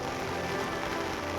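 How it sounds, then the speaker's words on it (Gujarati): Steady rain falls on farm fields, a dense, even hiss of drops on the ground and surfaces that is close and continuous, with no voices. "તો હજી વરસાદ ગતિ વધારવામાં જ છે વરસાદની."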